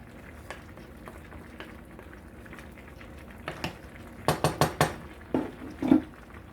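A spoon stirring maple syrup, soy sauce and miso paste in a pot for a vegan jackfruit stew, quiet at first, then a run of sharp metallic clinks and taps against the pot's side, close and distinct; no talking.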